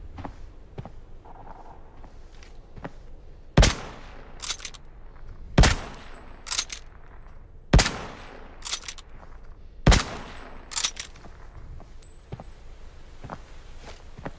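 Suppressed gunfire in the shooter game Arena Breakout: four sharp, loud single shots spaced about two seconds apart, each with a short echoing tail, amid quieter footsteps and small clicks.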